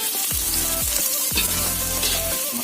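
Nasi goreng fried rice stirred in a hot pan, a loud continuous sizzle with scraping stirs of the spatula repeating every half second or so.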